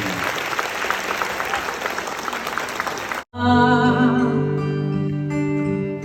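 Loud audience applause fills the first three seconds, dense and steady, then cuts sharply to music with sustained tones as performers are welcomed on stage.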